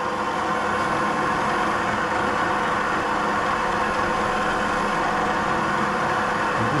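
A milling machine running at 1500 rpm on a tough high tensile steel tricycle drive shaft gives a steady, loud, continuous broadband drone with no pauses, and no voices are heard.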